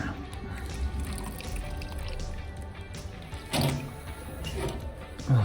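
Water drips off ultrasonically cleaned carburettor parts from a Vespa LX 125 scooter, with a few soft, scattered drips and splashes over a faint, quiet background.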